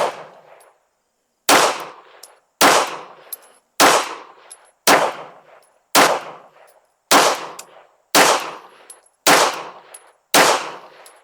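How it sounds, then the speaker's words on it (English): A Beretta APX A1 pistol fires Armscore 115 grain rounds at a range, ten sharp loud shots in a steady rhythm about one second apart after a short pause, each cracking close and ringing briefly, with no talking. "I'm going to shoot another group at that top right again."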